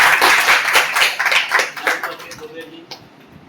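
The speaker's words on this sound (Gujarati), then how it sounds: "એક જોરદાર તાળી એમના માટે આપણે" An audience at a community organisation's event claps together in a burst of dense applause that gradually thins out and fades over a few seconds, with voices audible alongside.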